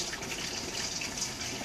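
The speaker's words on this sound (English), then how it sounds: "colander on top, a little hot water" Hot water pours steadily over beans in a colander in a brief, continuous splashing gush, close and moderately loud.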